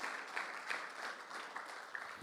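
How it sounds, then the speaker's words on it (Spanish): A church congregation claps during a sermon, a brief, moderately faint wash of many hands applauding evenly with no voices on top. "Alguien le da un aplauso al Señor por esta palabra."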